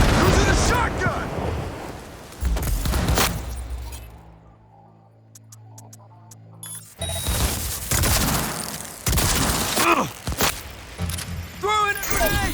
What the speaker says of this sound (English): Grabbing some big guns! Using a shotgun!